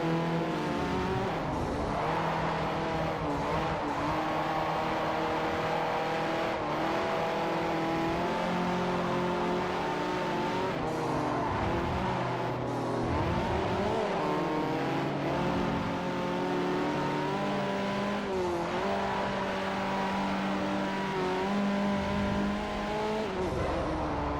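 Family hatchback racing in Forza Motorsport 4's Euro Hatch challenge, engine revving continuously through gear changes with rising and falling pitch, brief tire squeals, loud and steady throughout.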